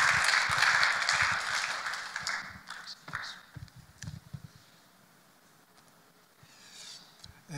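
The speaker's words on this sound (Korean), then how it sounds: "나오시길 같이 박수로 환영하겠습니다" An audience at a missionary lecture applauds to welcome a speaker, a burst of clapping that is loud at first, then thins into scattered claps and fades to near quiet.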